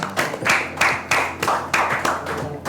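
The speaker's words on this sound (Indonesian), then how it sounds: "Kita beri tepuk tangan buat Sophia" A small studio audience on a Jakarta basketball talk show claps for a guest, with about eight loud, close, evenly spaced claps forming a brisk rhythmic applause and no talk.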